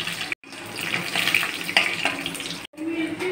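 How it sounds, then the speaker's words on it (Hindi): Garlic cloves and red chillies frying in hot oil for a ridge gourd chutney, a close, busy sizzle and crackle with two brief breaks in the sound. "इसमें लाल मिर्च भी डालकर फ्राई कर लेंगे।"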